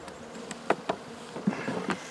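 A few stray honey bees drone around a hive box after robbers have stripped it, faint intermittent buzzes rising and fading over a quiet outdoor background.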